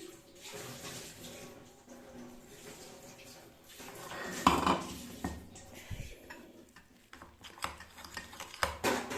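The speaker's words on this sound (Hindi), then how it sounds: "सारा मसाला जो है हम अच्छी तरह से इसके साथ मिक्स कर लेते हैं।" Masala is mixed into fish in a pan, with scraping, clinking and stirring sounds of a utensil against the pan that grow busier and louder toward the end. A faint voice talks underneath.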